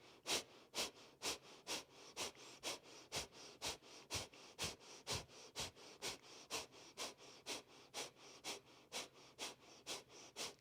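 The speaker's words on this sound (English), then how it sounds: "We're metabolizing it with this vigorous breath" Vigorous Breath of Fire pranayama breathing: a steady, rapid series of sharp, forceful nasal breaths about twice a second, close and even in rhythm, with nothing else heard.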